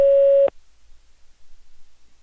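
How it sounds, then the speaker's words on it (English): A phone line's recording tone plays as one steady electronic beep lasting about half a second, then cuts off into near silence. "Record after the tone."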